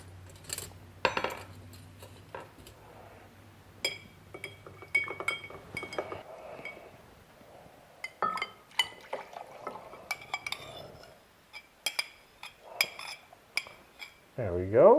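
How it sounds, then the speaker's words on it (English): A mixing spoon stirs sugar in a glass, with bright clinks and scraping taps against the glass coming in irregular bursts, close up, after a low hum that fades early on. "give it a good couple stirs here"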